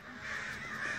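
Crows cawing outdoors, one brief harsh call that is close and clear with nothing else heard.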